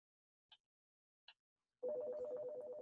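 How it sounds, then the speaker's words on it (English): A phone rings during an online class lecture: two short faint electronic chirps, then a louder sustained ringtone pattern that begins and continues to the end, with no talk over it. "That's my phone ringing."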